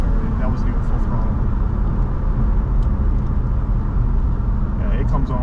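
A car engine pulls hard under throttle on a night run, a steady loud roar with road and wind noise filling the cabin, and voices chatting faintly underneath.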